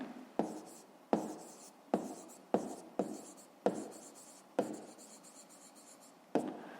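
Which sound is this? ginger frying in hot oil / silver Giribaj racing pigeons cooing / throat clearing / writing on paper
writing on paper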